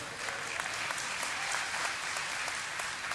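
Steady, dense applause from a large audience at a BlizzCon 2010 Q&A panel, continuous clapping without a break.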